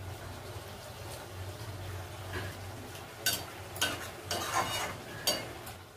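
A vegetarian Malabar spinach stem curry (pui metuli) with mustard and poppy seed is stirred in a pan, making soft, intermittent scraping and mixing sounds up close against a faint background hum.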